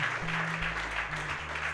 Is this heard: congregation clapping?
yes